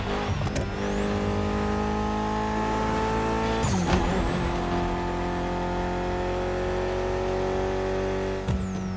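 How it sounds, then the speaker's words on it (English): A Mitsubishi Lancer Evolution with a 280-horsepower inline four cylinder driven in The Crew Motorfest, a sustained high-revving engine drone with upshifts and rising pitch sweeps, loud and close throughout. "Mitsubishi gave us a nice inline four cylinder with already 280 horsepower."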